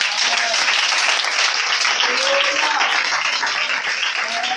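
Church congregation applauding and cheering together, a dense, steady wash of clapping with voices mixed in, loud and continuous throughout.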